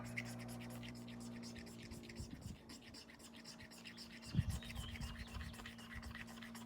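Repeated scraping of a magnesium fire starter block into a pile of almost dry wood shavings, a steady scratchy rasp that runs throughout over a low background hum, with a couple of louder knocks.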